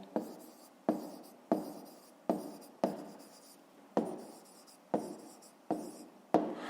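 A pen writes out a number for a fifth-grade maths exercise, with a run of short, quiet scratching strokes in a regular rhythm, each starting sharply and fading, close up with no talking.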